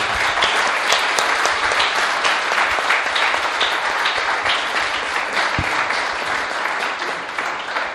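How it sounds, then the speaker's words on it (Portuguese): Sustained audience applause fills a hall at a weekend event in Lapa for Francisco Louçã, steady and dense throughout with no break. "O vosso aplauso para o Francisco."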